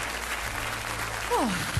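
Audience applause following a live song performance on The Voice of Poland, a steady broad roar of clapping throughout, with a brief voice or tonal sweep rising over it near the end.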